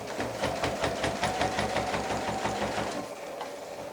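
A sewing machine runs steadily, stitching the open lining of a shopper bag closed, its needle clattering in a fast even rhythm close by for about three seconds before slowing.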